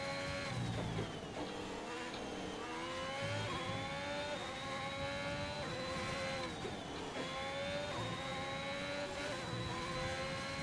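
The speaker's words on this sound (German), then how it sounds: "Der Honda-Motor hört sich gleich an, nur der Honda-Motor knallt ein bisschen mehr" Honda racing car engine in a video game, a loud continuous high-pitched whine that rises and dips with gear changes as the car is driven hard, steady throughout with no talk.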